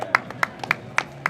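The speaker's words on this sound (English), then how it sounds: "Big applause to these women." Sparse audience clapping at a prize ceremony for a Tors Trophy competition, a handful of separate hand claps spaced irregularly over a second or so, moderately close and fairly quiet, with no voices.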